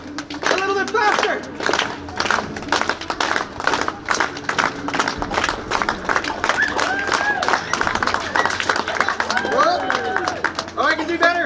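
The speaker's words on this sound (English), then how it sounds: "slow hand clap all together" A street entertainer's audience clapping together outdoors, rhythmic hand claps repeating steadily throughout amid crowd chatter and children's voices, with a performer speaking over it.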